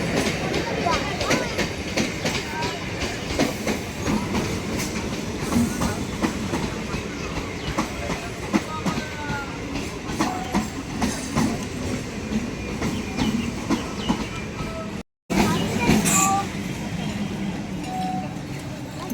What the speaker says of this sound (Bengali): ঢুকে গেল ট্রেন 2 নম্বরে।